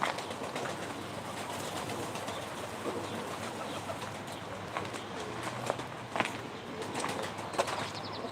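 Tumbler pigeons, Ankara play birds, coo softly in a loft with occasional wing flaps over a steady background hiss, no voices.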